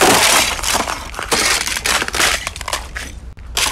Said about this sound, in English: just like stomping on ice and like breaking it